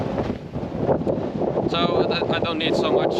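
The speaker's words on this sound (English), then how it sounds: "Wow, this is a lot of wind." Strong wind gusting on a hike in the Kapalua area of Maui, buffeting the microphone in a loud, steady roar while a person talks over it.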